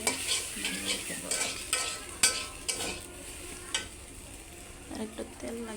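Fried onions and green chillies are stirred in oil with scraping utensil strokes and a soft sizzle, in irregular bursts at close range with no talking.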